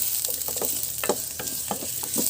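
Onion and garlic sautéing in a thin pan, a steady close sizzle with a few scraping stirs breaking through at irregular intervals, no voices.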